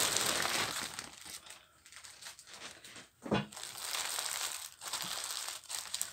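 A small plastic bag holding beads is handled up close, giving a continuous crinkling rustle with shifting bursts and brief lulls.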